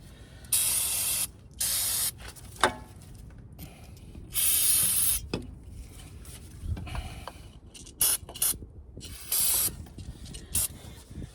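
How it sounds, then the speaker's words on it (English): Short bursts of aerosol brake cleaner spray hiss onto the rear brakes of a 2014 Dodge Durango, coming as several separate blasts of a second or so each, with faint clanks and handling noises between them. "Use some brake cleaner."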